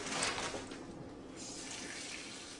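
Chard leaves being washed under running water, a steady tap stream splashing and swishing in a sink for a couple of seconds, near and moderately quiet with no talk.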